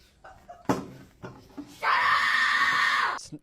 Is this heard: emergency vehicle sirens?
no